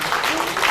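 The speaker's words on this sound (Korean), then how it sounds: "또 박수 치실 때가 되죠." Audience clapping at a book talk, a brief, dense burst of steady applause from a seated crowd, loud and continuous throughout.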